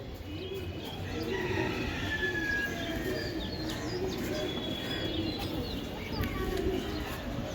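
Giribaz pigeons keep up a steady, low cooing with occasional faint chirps, a continuous murmur at moderate distance with no talking.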